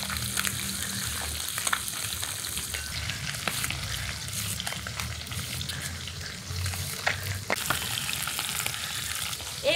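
Large tengra fish sizzle steadily in hot oil, a constant close crackle and hiss with occasional sharper pops, no voices.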